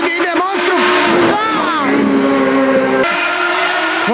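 An open-piped engine roars past at close range in a loud flyby, its pitch sweeping down as it passes and a sustained drone lingering after.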